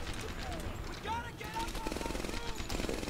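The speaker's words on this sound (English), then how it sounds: "Some MG standing over there, trying to get him" Machine gun fire in Medal of Honor Airborne, rapid rattling bursts growing denser toward the end, mixed with whistling effects and game ambience.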